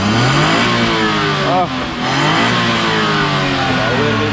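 A car engine revs loudly and steadily up close, its roar dipping briefly before climbing again, with a short voiced exclamation over it.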